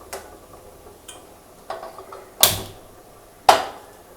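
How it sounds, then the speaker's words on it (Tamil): A gas stove is switched on under a pan for tempering amla pickle: its igniter gives a few soft, spaced clicks followed by two sharper, louder snaps about a second apart in an otherwise quiet kitchen. "இப்போ ஸ்டவ் ஆன் பண்ணிடலாம்."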